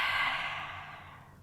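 A long, breathy exhale during a yoga breathing exercise, steady and close, fading gradually over about a second and a half with no talk over it.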